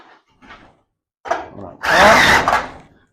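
Power drill driving screws into vented roof panels, with a couple of short buzzing spurts followed by a longer, louder burst of grinding whir close by.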